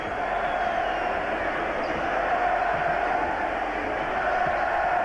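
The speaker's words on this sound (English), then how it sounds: "the crowd begins another sarcastic chant of Reggie, Reggie, mocking what they do at Market Square" A basketball arena crowd at the 1998 Eastern Conference Finals Game 5 between the Bulls and Pacers keeps up a sustained, rhythmic sarcastic chant, a broad roar heard at a distance beneath a commentator talking.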